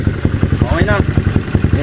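Kawasaki Wind 125 motorcycle engine running after a tune-up for hard starting and backfiring, a steady pulsing putter close by with talk over it.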